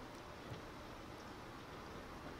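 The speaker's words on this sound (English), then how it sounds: "While it's raining." Steady rain falls in the Project Zomboid video game, a constant soft hiss of drops with no other sounds breaking through.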